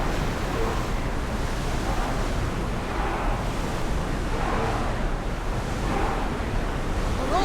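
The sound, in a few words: wind blowing over the sea while sailing, from video game Assassin's Creed Odyssey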